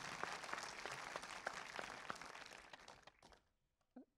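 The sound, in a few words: audience applause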